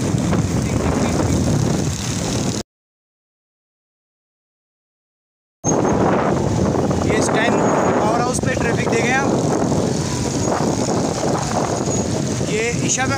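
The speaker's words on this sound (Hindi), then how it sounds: "कराची के रोड पे ट्रैफिक बहुत है भाई" Road traffic in Karachi heard from a moving motorbike, a steady loud rush of engines and wind buffeting the microphone with occasional horn-like tones, broken by a few seconds of total silence partway through.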